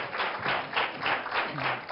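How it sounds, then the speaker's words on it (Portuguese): A studio audience applauds for Dr. Pedro on a television talk show, giving dense, steady clapping that pulses slightly and stays fairly loud for two seconds with no talking. "Na salva de palmas para o Dr. Pedro"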